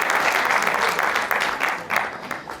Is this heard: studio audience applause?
yes